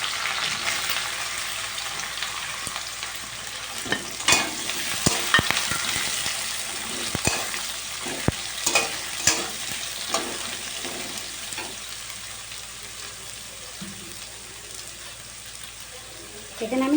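Chopped onion fries in oil with garlic already browned in the pan, giving a steady sizzle with occasional clinks and scrapes from stirring, and a person speaks quietly at times.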